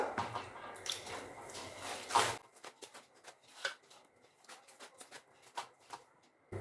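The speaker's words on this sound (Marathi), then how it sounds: "अशा प्रकारे आपल्याला पीठ मळून घ्यायचं आहे" Wet, squishy slapping and pressing noises come in an irregular rhythm, close by, as hands knead sorghum flour dough.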